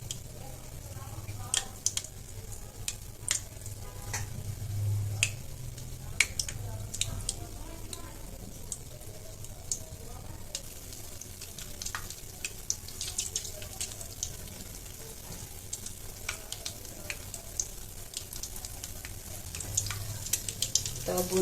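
Chicken feet pakora, pre-boiled, fries in oil over a low gas flame, giving a faint, steady crackle with scattered sharp pops throughout.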